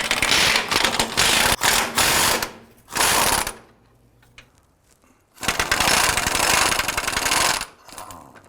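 A ratchet or impact tool rattles off 15mm nuts and bolts on a 2004-2009 Dodge Durango, coming in loud rapid bursts separated by quieter pauses.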